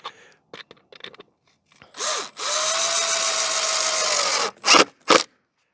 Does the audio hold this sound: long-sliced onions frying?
no